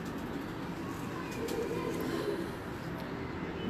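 Home-bred pigeons coo softly and repeatedly in their loft, a low, rolling, murmuring sound, quiet and somewhat distant, over faint background noise.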